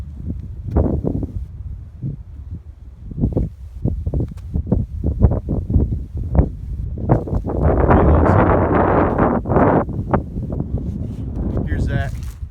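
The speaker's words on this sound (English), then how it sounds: "well you probably can't hear me with all this wind" Strong wind buffets the microphone on the exposed Blood Mountain summit along the Appalachian Trail, loud gusty roaring with a sustained blast near the middle, mixed with fainter voices.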